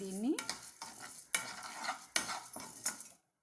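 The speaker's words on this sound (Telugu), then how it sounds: "గోల్డ్ కలర్లోకి వచ్చేలాగా, మాడకుండా చాలా సన్నని సెగ మీద వేపుకోవాలండి" Ingredients for kandi podi are dry-roasted in a pan over a low flame, giving light scraping and stirring with occasional sharp clinks of a utensil against the metal before the sound stops abruptly.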